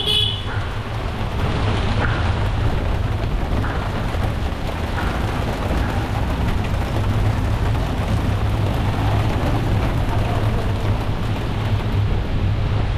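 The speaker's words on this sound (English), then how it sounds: "right after that, it started pouring and hailing" Heavy rain and hail pour down outdoors in Lucknow, a dense, steady roar of falling water with a low rumble underneath, unbroken throughout.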